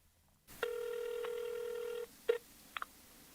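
Telephone keypad tones for an outgoing call: a long steady dial tone, then a short burst and two quick beeps as digits are pressed, close and clear with no talking.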